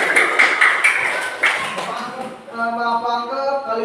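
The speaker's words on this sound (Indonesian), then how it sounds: "Tepuk tangan sekali lagi." Elementary schoolchildren in a classroom clap in a short burst over a couple of seconds, overlapped by young voices, before the clapping fades and a voice carries on alone.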